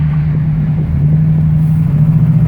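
A 1934 Chevrolet all-steel touring car running on regular pump gas, its engine a steady low rumble with a strong droning hum while driving, continuous and close with no knocking.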